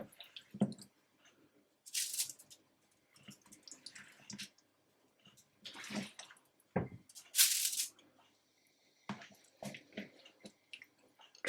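Raw chicken drumsticks are mixed with oil by hand, producing intermittent wet squishes and slaps in short bursts with quiet gaps between them, close and fairly soft.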